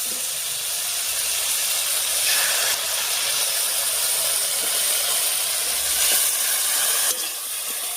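Chili paste hits softened vegetables in a hot pan for a Bengali fish curry, giving a steady, loud hiss and sizzle that runs the whole time with slight swells and no talking.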